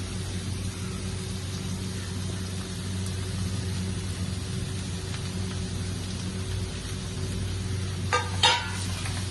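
Onion, ginger and garlic fry in hot oil for a Thalassery chicken biryani, giving a steady, even sizzle throughout. A brief utensil clink sounds near the end.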